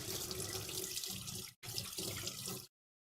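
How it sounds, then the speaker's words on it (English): Kitchen tap water runs hard over a microplane grater being rinsed of orange zest, a loud close splashing gush that breaks briefly mid-stream, then resumes before cutting off abruptly. "We'll rinse out our microplane grater."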